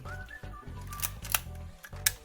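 Canon QL17 film camera shutter firing repeatedly during a speed test: sharp mechanical clicks close to the microphone, three or four distinct snaps spaced roughly half a second apart, quiet with faint whirring between, no talking.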